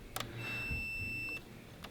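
A single steady high-pitched multimeter continuity beep lasting about a second, with faint clicks before and after, quiet and close.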